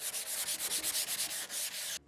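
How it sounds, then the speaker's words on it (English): Dried Raptor bed liner coating on a utility cabinet being hand-sanded, a steady run of quick rhythmic rubbing strokes, close and loud, with a brief pause at the end and no talking. "let's go ahead and sand it up."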